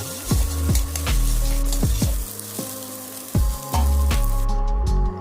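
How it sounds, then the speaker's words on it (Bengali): Two eggs fry in oil with salt and black pepper in a pan, a loud close sizzle broken by repeated ringing metallic strikes that fade after each hit. "আর গোলমরিচ দিয়ে খুব ভালোভাবে ভেজে নেব"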